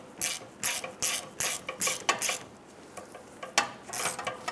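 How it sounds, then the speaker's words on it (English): A ratchet tightens the upper steering shaft coupler bolt on a 2005-2010 Chrysler 300, clicking in quick repeated bursts of pawl ticks, close up and clear with no voices. "let's go ahead and tighten down our upper bolt"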